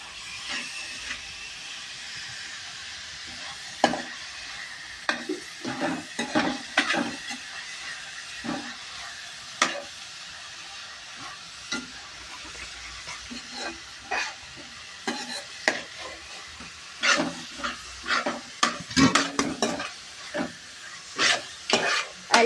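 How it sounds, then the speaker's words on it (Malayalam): Food frying in a pan is stirred steadily against a continuous hiss of sizzling oil. Scrapes and clacks from the utensil come more densely and loudly toward the end. "നല്ലപോലെ ഇളക്കണം"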